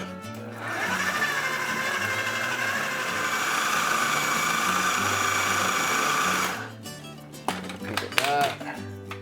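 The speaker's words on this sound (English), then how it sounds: "our food processor is loaded up. We're gonna go ahead and let this sucker rip" A home kitchen food processor chopping salsa ingredients runs with a loud, steady whirring drone for about six seconds, then cuts off abruptly, with a voice speaking afterward.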